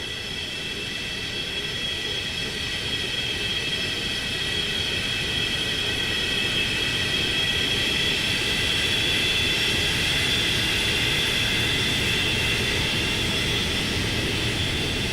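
A Boeing 727-100 taxis in a flight simulator, its engines giving a steady, loud, continuous whine and rumble that barely changes throughout.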